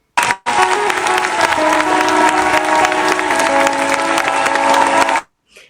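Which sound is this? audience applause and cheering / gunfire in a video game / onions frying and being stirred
audience applause and cheering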